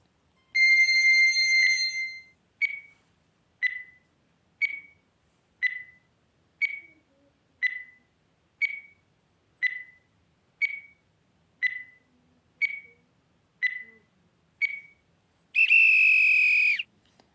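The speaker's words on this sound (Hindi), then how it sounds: "मैं टाइमर आप लोग के लिए लगा दे रहा हूँ" A countdown timer beeping, with a long opening tone, then about a dozen evenly spaced short electronic beeps at roughly one-second intervals, ending in a longer, louder final alarm tone, with no talking.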